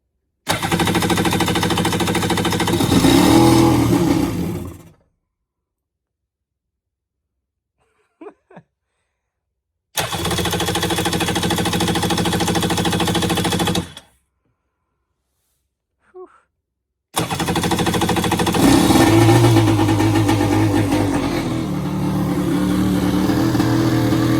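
A Kawasaki SuperJet round-nose jet ski engine starts in three loud bursts, revving high and rough with the idle set too high, with silent gaps between and a faint clunk during the pauses.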